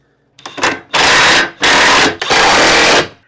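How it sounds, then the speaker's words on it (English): Trailer hitch bolts on a 2005–2010 Honda Odyssey being tightened with a power tool: three loud, close bursts of whirring rattle, each about half a second to a second and a half long, separated by short pauses, with no talking. "I am going to tighten them all down, starting with the ones going to the vehicle."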